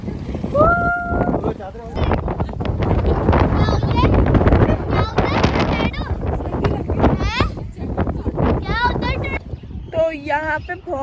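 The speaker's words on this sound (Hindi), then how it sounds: "तो यहाँ पे बहुत हवा चल रही है" Strong gusts buffet the microphone in an open park at Bahria Town, Karachi, a low rumbling roar running almost throughout while several people, including children, talk and laugh over it.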